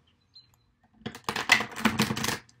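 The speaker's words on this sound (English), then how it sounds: "I'll shuffle it one more time for a good time." Tarot cards being shuffled by hand, a close, brisk run of riffling flicks and soft slaps lasting about a second and a half after a brief quiet tap.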